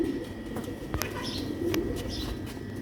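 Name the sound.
pigeons cooing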